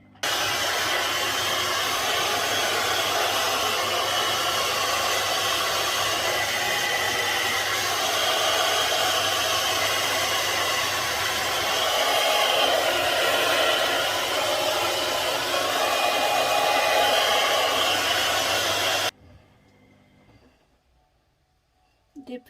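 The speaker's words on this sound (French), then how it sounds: "je vais faire sécher les cheveux" A hair dryer runs continuously at home while hair is dried, a steady loud broadband whoosh holding for about nineteen seconds before cutting off abruptly into near silence.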